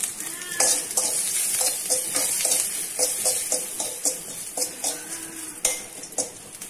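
Dried red chillies, whole cumin and salt fry in hot ghee in a wok, a close crackling sizzle broken by repeated stirring scrapes and light clinks of a metal utensil, no talking.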